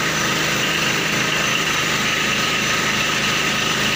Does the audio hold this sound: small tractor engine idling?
yes